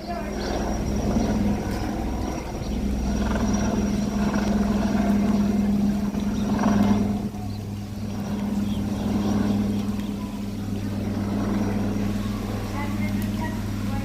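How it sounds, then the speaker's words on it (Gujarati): A helicopter passes over a flooded area where rivers and dam water have merged, its steady rotor drone holding throughout as a constant background hum with light wind. "જાય હે ને હેલિકોપ્ટર આવ્યું છે"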